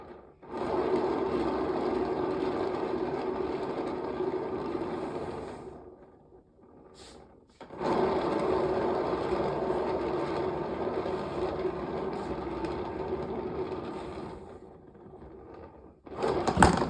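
A canvas spinner turns an acrylic pour canvas in two long whirring runs of steady motor hum, with a brief stop between them and a clunk at the end, near and without talk.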